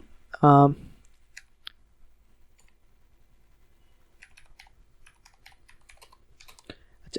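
Sparse, soft keyboard clicks from someone typing Python code on a computer keyboard, scattered through the second half after a brief loud burst at the start, quiet and close with no talk over them.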